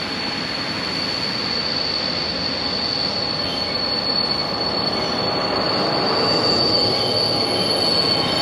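Old train wheels roll continuously along the rails with a high, thin metallic squeal riding over a steady rumbling clatter.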